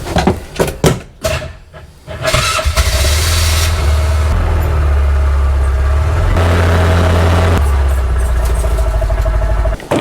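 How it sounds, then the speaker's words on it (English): Kubota utility vehicle starting up in a barn: a few clunks and a short cranking burst, then the engine catches and settles into a loud, steady diesel idle that runs to the end. "let's head to the barn and pull the Kubota out and get it started up"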